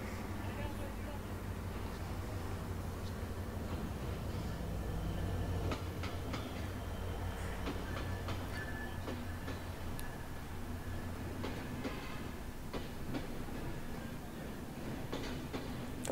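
A passenger train pulls into a station on the Dhaka to Cox's Bazar route, a continuous rumble and clatter of wheels and cars with squeals and crowd noise throughout.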